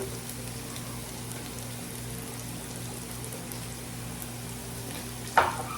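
Onions and chicken sizzle in a hot pan, a steady, soft frying hiss that fills the kitchen, with a brief sharp clatter near the end.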